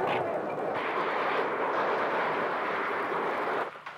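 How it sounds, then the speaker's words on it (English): Heavy gunfire rolls through street fighting around a battered television centre in Romania, a dense, continuous roar of shots and blasts that stays loud for several seconds before easing at the end. "coming under fire from snipers, and returning countless thousands of rounds at the apartments"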